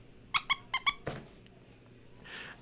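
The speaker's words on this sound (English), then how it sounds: "He has a squeaky nose." A fursuit head's squeaky nose being squeezed, four sharp high squeaks in two quick pairs, close up, followed by a soft rustle, with no talk.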